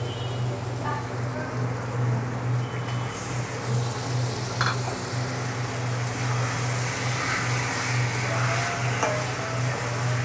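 Chicken liver going into a well-fried Bengali spice masala for a liver curry, giving a steady rain-like sizzle and crackle over a constant low hum, with a few brief clinks and no talking.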